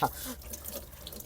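Tap water runs briefly into a sink as hands are washed outdoors on a cold night in the Saudi desert, a short close splash and rush of water, fairly faint.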